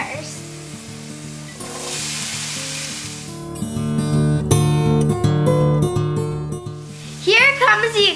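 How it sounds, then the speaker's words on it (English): Green and red peppers fry with onions in a pan, a steady sizzle and hiss that grows louder as they hit the heat, while background music plays and a voice talks briefly at the end. "Now I'm going to add in my green and red peppers."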